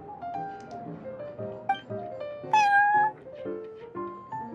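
Prince, a cat in the Genshin Impact video game, meows several times over soft background music, with one longer, louder meow near the middle and shorter calls before and after.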